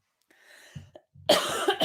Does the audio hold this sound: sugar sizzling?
no